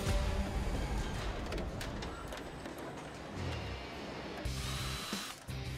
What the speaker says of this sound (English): This team makes using a drill look like spreading butter.